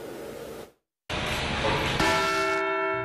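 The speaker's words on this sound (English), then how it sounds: "With the ringing of a bell echoing through the halls of the State House" A bell rings out with a resonant, lingering tone after a brief silence, echoing through the halls of a State House at a 9/11 remembrance, its overtones sustaining and slowly fading.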